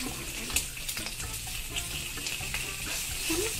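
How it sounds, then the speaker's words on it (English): Bacon sizzles in a pan in the Roblox game Bloxburg, a steady, faint hiss with small crackles running throughout. "Hurry up, bacon. Let's get this bacon fried."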